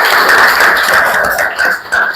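Classroom applause from students during a lesson, a dense steady patter of many hands clapping close by for a couple of seconds, tapering slightly toward the end.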